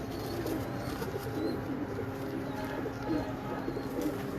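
Pigeons coo steadily in a busy pigeon loft, a dense, continuous murmur of soft throaty calls close by with a constant background hum and no clear speech.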